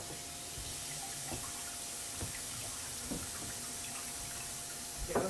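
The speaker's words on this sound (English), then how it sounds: "I'm going to rinse it off so that it doesn't get all sticky" Tap water runs into a kitchen sink while food for minestrone soup is rinsed, a steady hiss with scattered soft splashes and taps against the basin.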